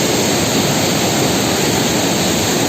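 Heavy water rushes steadily through the Koshi barrage, a loud, dense, continuous roar with no break or change and no voices.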